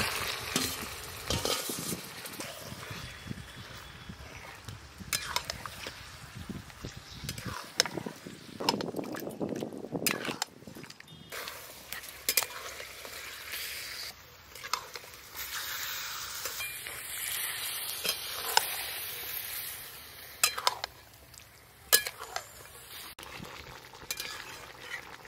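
Spice-marinated mutton fries in a pan with a steady sizzle, broken by scraping and clattering as it is stirred, close and moderately loud with no voices.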